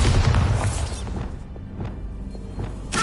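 Bombarda spell blast in Hogwarts Legacy, a loud booming explosion at the start that fades into a rumbling tail, followed by scattered thuds and a second burst at the end.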